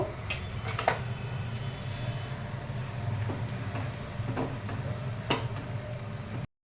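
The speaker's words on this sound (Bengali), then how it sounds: "এবার কটা বাদাম ভেজে নেব" Peanuts being fried in a pan at home, a quiet continuous sizzle with scattered sharp crackles and pops spread through the clip before it cuts to silence.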